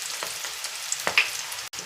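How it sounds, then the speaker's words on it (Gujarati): Sliced chili pepper bhajiya fritters in gram flour batter fry in hot oil, giving a steady close crackling sizzle with small pops and no voices. "તો મરચાંના ભજીયા આપણા તળાઈ ગયા છે પહેલી વાર."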